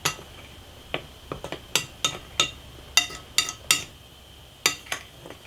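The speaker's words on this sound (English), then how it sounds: "You're going to want to mix this all together" Flour and salt mixed in a bowl with a utensil, a series of sharp, irregular clinks and taps against the bowl, close and distinct, with quiet gaps between strokes.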